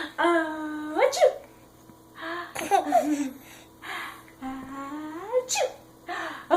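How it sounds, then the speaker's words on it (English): A person sneezing three times, each a rising, drawn-out inhale ending in a sharp burst, close and fairly loud, with giggling and breathy laughter between the sneezes. "Achoo. Oh, bless you."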